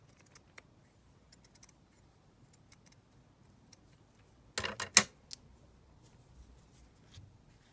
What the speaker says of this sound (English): So I'm just going to cut it across here.